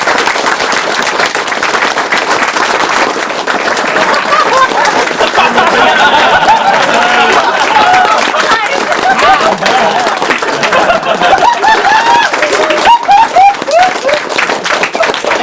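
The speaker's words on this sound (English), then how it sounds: "applause" Loud, dense audience applause fills a hall at the Awesome Games Done Quick 2013 marathon, sustained clapping with scattered cheers and whoops throughout.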